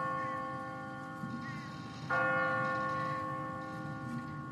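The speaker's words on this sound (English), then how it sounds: "What kind of church bell goes off at 20 past the hour?" A church bell rings in The Walking Dead video game, sustained resonant tolls that swell with a louder strike partway through, heard without talk.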